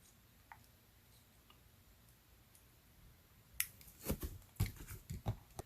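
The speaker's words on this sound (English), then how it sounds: "So I just need to trim off this little handle part." Paper cut-out snipped with scissors during card-making, a few crisp cutting snips clustered near the end after near silence, close and clear with no talk.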